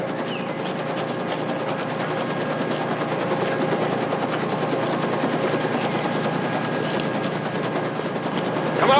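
Helicopter rotor and engine of a military chopper in a 1978 Vietnam War film, a loud continuous mechanical thrumming and whine held steadily throughout with no talk.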